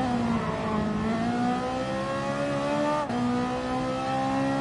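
A Bugatti Veyron engine in Gran Turismo Sport on PS4 holds a steady, loud, droning note. Its pitch glides slowly, dips briefly near the end, then carries on without a break.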